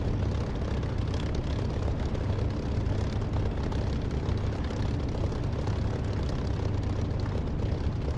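A flight-sim aircraft engine roars steadily through a takeoff run, a dense, continuous low rumble with broadband noise that holds near and loud without pause.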